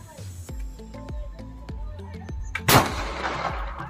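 A loud agricultural sound cannon, a gas-fired wild animal repellent gun, fires a single sharp boom at close range, followed by a rumbling decay, with a faint rhythmic ticking and mechanical clicks leading up to the blast.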